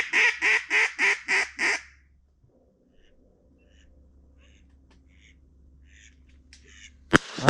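Mallard ducks quacking in flooded corn on a foggy hunt: a quick series of six loud rhythmic quacks up close, then quieter distant rustling and faint calls, ending with a sharp bang.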